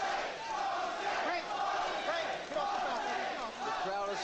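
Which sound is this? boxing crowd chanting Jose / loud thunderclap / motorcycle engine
boxing crowd chanting Jose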